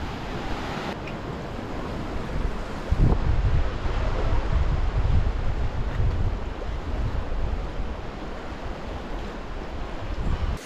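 Sea waves wash in near the shore at Ross Island, a steady rushing surf with a stronger surge partway through, mixed with gusty wind noise on the microphone and no voices.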